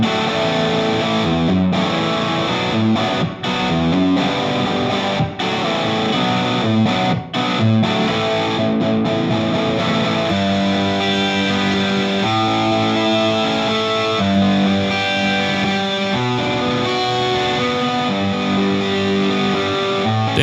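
A heavily distorted electric guitar runs through Amplitube 4 with cab room simulation, playing loud sustained chords and riffs continuously for about twenty seconds, dense and saturated, with no talking.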